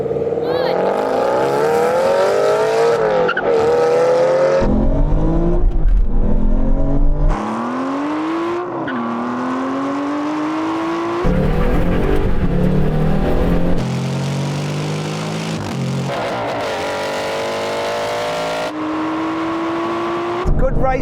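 Aston Martin race car and road car drag racing from a first-gear roll-on out to the half mile, engines revving hard through repeated rising gear pulls with sharp shifts between them, loud and close throughout.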